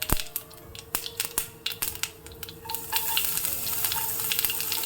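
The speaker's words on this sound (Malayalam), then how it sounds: "കടുക് പൊട്ടിയ ശേഷം ഇതിലേക്ക് അരിഞ്ഞു വെച്ച വെളുത്തുള്ളിയും ഇഞ്ചിയും ഇട്ട് കൊടുക്കാം." Chopped garlic and ginger go into hot oil after mustard seeds have popped, crackling in sharp irregular pops that settle into a louder continuous sizzle, close and without talk.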